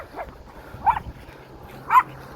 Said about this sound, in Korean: 또 귀여운 강아지네요.